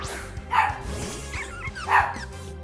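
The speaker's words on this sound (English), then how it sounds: "my dog is barking at absolutely nothing" A small Pomeranian dog barks indoors in a few quick yappy bursts, close and moderately loud, over a steady background hum with game music faintly underneath.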